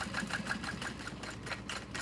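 A sewing machine runs reinforcement back stitches on a handle of a custom order, giving a steady rhythmic whir with quick repeated pulses, close and moderately loud.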